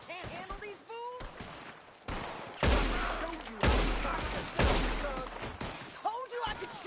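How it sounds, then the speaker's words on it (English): Rapid gunfire from a shootout in the video game Red Dead Redemption 2, with repeated loud bursts of shots ringing out in close succession, interspersed with shouting voices between the volleys. "Told you I could shoot a gun, didn't I?"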